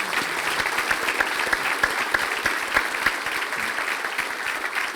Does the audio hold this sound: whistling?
no